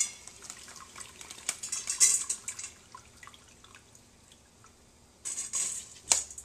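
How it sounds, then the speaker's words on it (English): Sticky rice being drained in a colander, with water dripping and trickling alongside light clinks of kitchenware, a louder splash of pouring near the end. "Go ahead and drain your rice."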